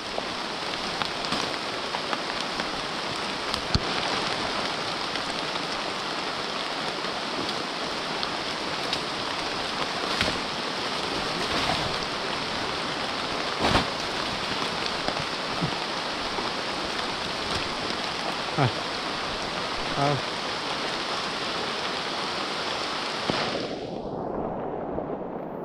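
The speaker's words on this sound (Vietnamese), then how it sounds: "Mưa. Nhìn thấy rừng rồi." Rain pours steadily in a forest, a thick, unbroken hiss of drops on leaves and ground with occasional louder splats, cutting off near the end.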